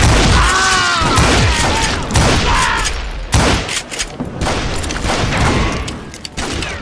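Dense, continuous gunfire from hired gunmen in Call of Juarez Gunslinger, with loud rapid shots and heavy booms layered into a constant, near barrage for the whole stretch.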